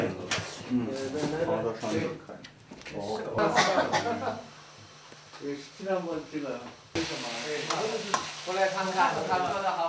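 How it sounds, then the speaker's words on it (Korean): Food is stir-fried in oil, with sizzling and the scrape of stirring rising and falling under continuous talking. "기름에 튀기고 볶는 건"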